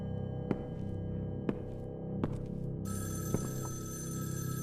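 A telephone rings in the horror game Evil Inside: a few dull thuds over a low hum, then a bright, sustained electronic ring starts partway through and continues steadily, with no talking.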